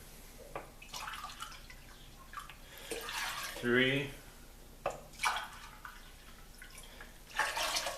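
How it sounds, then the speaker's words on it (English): Chlorine-free bottled water splashes into a large glass bowl in a few short pours between pauses, fairly quiet, while a person speaks over it counting. "quart or 4 cups of chlorine-free water or bottled water and put it in a large glass bowl"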